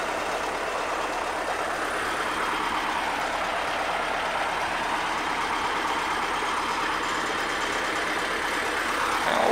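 A tractor-mounted OGR 6.3 m wheel-finger hay rake at work in the field gives a loud, steady engine roar with broad rushing noise, unbroken and constant throughout, with no voices.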